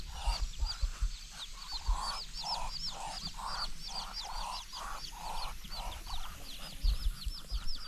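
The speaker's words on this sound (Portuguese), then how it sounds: "Olha o pato. Lá vem o pato" A duck on a countryside farm quacks in a series of repeated calls at a medium distance over a low background rumble, with a few soft thumps mixed in.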